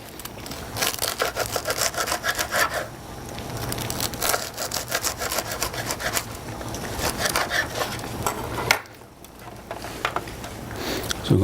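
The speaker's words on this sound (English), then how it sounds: "When cutting a crusty bread, or any bread for that matter, it's always good to use a serrated knife" A serrated blade saws back and forth through crusty bread, a steady rasping crunch with brief pauses, close and loud, no talking.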